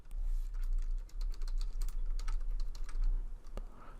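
Steady typing on a computer keyboard, a continuous run of close, crisp key clicks with one sharper tap near the end, no voices.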